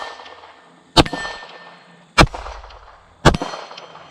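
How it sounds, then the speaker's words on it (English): Three rifle shots, each followed by the ringing clang of a struck MGM steel gong target at a range, evenly spaced about a second apart, with a short metallic decay after every hit. "We're going to go after the MGM gong here."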